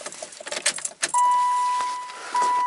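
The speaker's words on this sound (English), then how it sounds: "Turn the key on." Keys jangle near the ignition of a 1995 Ram with a V10 as the key is turned, several quick metallic clinks followed by a steady high electronic chime that holds to the end.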